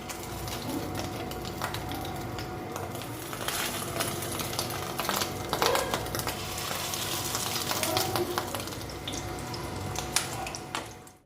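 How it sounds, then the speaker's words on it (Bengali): Fish roe fritters mixed with boiled potato frying in oil over a medium gas flame, a continuous close sizzle and bubbling with occasional clinks and stirring sounds, no talking. "এটা ভাজার সময় গ্যাসের ফ্লেমটা মিডিয়াম করে লাল লাল করে ভেজে নিচ্ছি"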